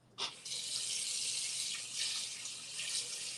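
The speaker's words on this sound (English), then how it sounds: "So I just put in some hot water and I zhuzh it around." Hot tap water gushes steadily into a pot of rice for rinsing, a continuous close splashing stream that swells slightly as the flow shifts, with no talking.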